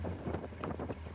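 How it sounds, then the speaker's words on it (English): Wind buffeting a mic on an open roadster driving through rain on a wet road, a brief loud rushing roar with gusty fluctuations and no talk. "It's windy."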